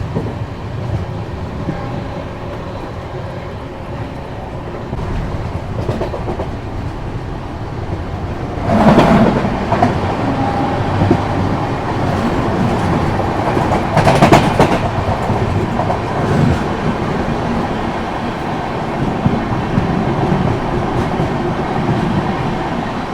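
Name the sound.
Swaraj Express train crossing near Ratlam Junction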